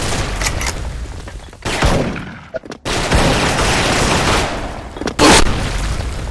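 Rapid bursts of gunfire and booming explosions in the video game Special Force, using the gold Desperado gun, loud and dense, with a brief lull in the middle before a sharp blast near the end.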